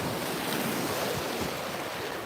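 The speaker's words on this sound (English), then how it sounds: "When the waves hit these rocks and come back out, and then these waves come in, you get what's called a backwash" Ocean waves surge against coastal rocks and wash back out in a continuous close roar of surf, with wind buffeting the microphone throughout.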